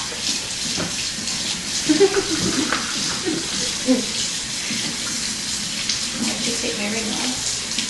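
Hot water runs from a tap into a sink in a steady hiss and splash, moderately loud and close, with occasional clinks and a voice talking briefly.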